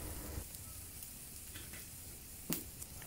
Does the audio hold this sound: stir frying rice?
yes